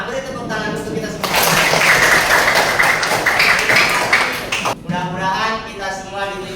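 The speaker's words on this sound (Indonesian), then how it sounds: "Beri tepuk tangan untuk kita semua." A classroom of students breaks into a burst of applause lasting a few seconds, a dense wash of clapping that sits between stretches of a man's speech before and after.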